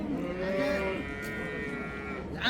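A cow at the Ishtixon livestock market in Samarkand gives one long, drawn-out moo that wavers in pitch, fairly close and clear, followed by a brief rustle and faint market background.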